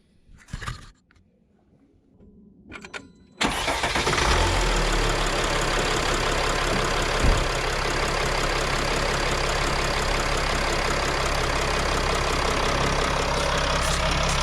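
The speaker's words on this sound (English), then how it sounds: "then I'll start it and let it run for a little bit." A 2014–2019 Mercedes Sprinter van engine starts after an oil change and settles into a loud, steady, close idle, with a few faint knocks before it cranks.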